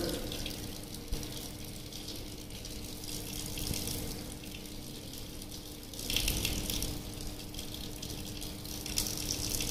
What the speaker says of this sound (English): So this is the way you have to cool down the test tube under the running tap water.